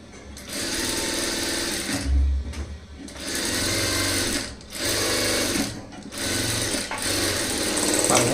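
A sewing machine stitches a Poonam saree blouse in loud, steady runs, with about four bursts of rapid mechanical chatter broken by short pauses.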